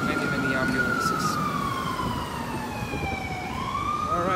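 Ambulance sirens wail continuously through Central Park in New York, a loud sweeping tone rising and falling over steady city traffic rumble, with faint voices underneath.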